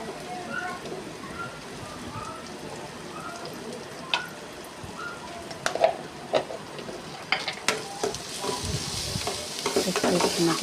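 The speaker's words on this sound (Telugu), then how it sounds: "పసుపు వేసుకున్న తర్వాత ఒకసారి మరలా తిప్పుకోవాలి." Okra fry being stirred in a pan after a pinch of turmeric goes in, with a steady sizzle and scattered sharp scraping clicks of the spatula that grow busier toward the end.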